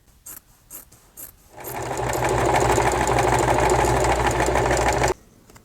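A sewing machine runs a steady zigzag stitch, length 3 and width 2, across fabric from a house dress. A few light clicks come first, then a loud continuous whir for about three and a half seconds before it stops abruptly.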